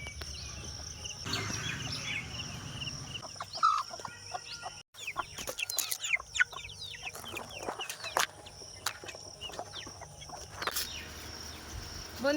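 Chickens cluck and chatter around leftover rice scattered for them, with several birds making short, uneven calls near and far, bursts of pecking activity and some faint background rustle.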